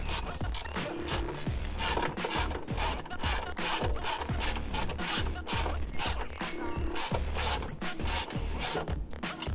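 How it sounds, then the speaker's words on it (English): A wrench tightens coilover parts on a BMW 1 Series, giving close rapid ratcheting and scraping metal clicks in a steady, busy rhythm with no talking. "I'm also going to do these up ever so slightly with my wrench"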